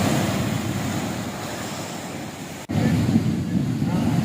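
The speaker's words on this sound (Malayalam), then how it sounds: "ശക്തമായ തിരമാലയിൽ വെള്ളം ആഞ്ഞടിച്ച് വീടുകളിലേക്ക് കയറുകയായിരുന്നു" Heavy sea waves surge at Vadanappally beach during a severe coastal sea attack, a loud, steady roar of surf with wind buffeting the microphone, briefly cutting out near the middle before resuming.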